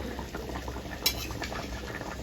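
A pot of curry with fried rohu fish pieces simmers, giving a steady low bubbling, close and moderately loud, with one brief sharp clink partway through and no talk.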